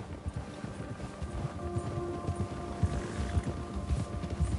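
Horse hooves clip-clopping at a steady riding pace in the video game Red Dead Redemption 2, a continuous low rhythmic thudding under wind and ambient game sound, moderately close.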